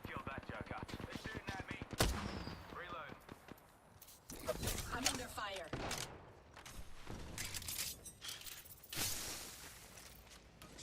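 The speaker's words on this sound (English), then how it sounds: "They're shooting at me." Enemy gunfire in a first-person shooter, with knuckle-cluster weapons, sounds as rapid bursts and bangs mixed with game effects throughout, under steady talk.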